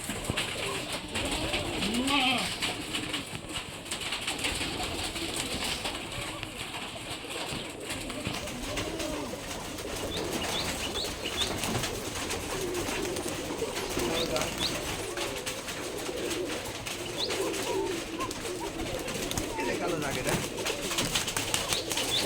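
Pigeons kept in an abandoned site coo continuously in a dense, near chorus, with men conversing over the soft repeated calls.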